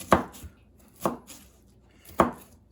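Onions being chopped with a LionSTEEL M5 G10 knife at a camp cooking setup: three crisp, separate blade strikes about a second apart, each hitting the board sharply, up close with no talking.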